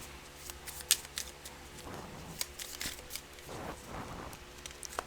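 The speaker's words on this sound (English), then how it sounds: "I'm sorry if I'm shuffling too long." Tarot cards are shuffled close up in a quiet room, giving soft riffling and flicking bursts with occasional sharper snaps, faint overall and with no talk.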